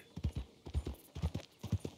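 Steady clip-clop of horse hooves in the video game Red Dead Redemption 2, a brisk two-beat rhythm repeating close by at moderate loudness with no voices.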